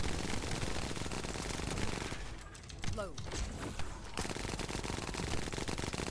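Sustained automatic gunfire from The First Descendant during a Void Erosion Purge fight, dense and loud throughout, with a brief lull in the middle where a voice speaks before the shooting resumes.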